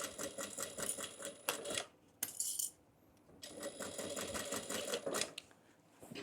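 A sewing machine back stitching a fabric retro bag runs in dense, rapid mechanical bursts, pausing briefly midway before whirring steadily on again, close and clear.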